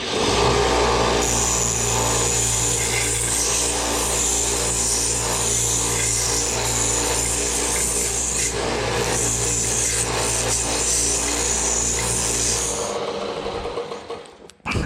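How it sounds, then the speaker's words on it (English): A handmade copper ring is power sanded to make it flat and uniform, with a steady loud motor whine and gritty rubbing that run close-up for about thirteen seconds before cutting off. "We're going to sand it up and get everything a little uniform and flat together as possible."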